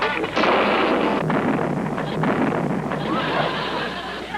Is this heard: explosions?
yes